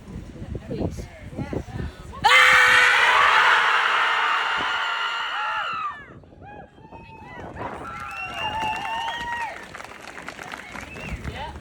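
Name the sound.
crowd screaming together at a rally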